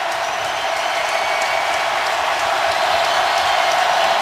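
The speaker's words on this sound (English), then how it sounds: "Now this crowd is alive." Dense, steady roar of a football stadium crowd at a Buccaneers at Saints NFL game in New Orleans, a continuous broadband wash of cheering with scattered whoops and no clear pauses.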